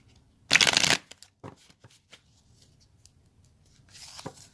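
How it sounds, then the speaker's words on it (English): Tarot cards riffle-shuffled once in a quick, loud burst, followed by scattered light taps and handling, then a softer second shuffle near the end. "Give a few shuffles."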